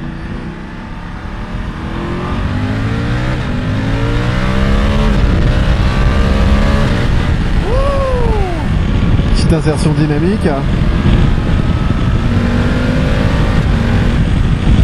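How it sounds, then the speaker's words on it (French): A BMW F850 GS motorcycle engine pulls hard through rising gears, a loud, close, rasping acceleration with someone talking over it throughout. "écoutez-moi cette petite accélération"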